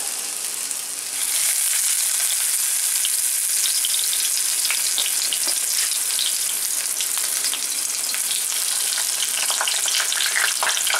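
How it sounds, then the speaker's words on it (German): Thai-style cabbage rolls, chilled first, frying in a pan until crisp: a loud, steady sizzle that flares up after the first second and crackles continuously, with no talk. "So, jetzt in die Pfanne. Schön knusprig braten."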